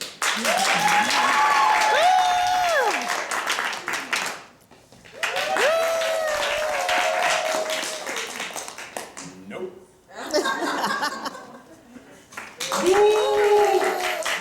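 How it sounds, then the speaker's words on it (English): An improvised game-show audience claps loudly in three separate bursts to vote for contestants, the applause overlapping with an excited host's speech and pausing between rounds. "clap the loudest for the one that you think should bring home the prize"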